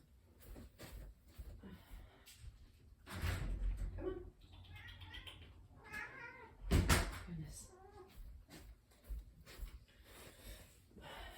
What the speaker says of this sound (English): my cat is just freaking out. Let me let her in.